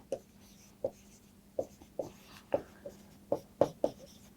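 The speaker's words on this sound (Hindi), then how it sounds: "मैं यहाँ पर लिखता हूँ" A teacher writes on a board in a lesson, making a series of sharp tapping and scratching strokes spaced irregularly about half a second apart, close and clear with no talk.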